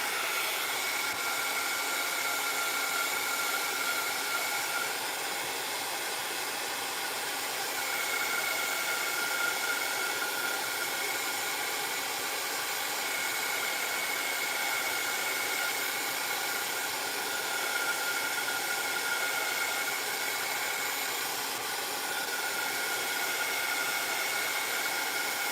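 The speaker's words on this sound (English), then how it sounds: "Dryer alert. I'm gonna dry this a little bit." A hair dryer blows steadily and loudly throughout, drying glue on a crafting project, a constant whooshing hiss with a faint whine and no voices.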